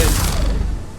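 A single heavy pistol shot from Mass Effect 3 Legendary Edition, a loud, close boom with a rumbling low-end tail that fades over about a second.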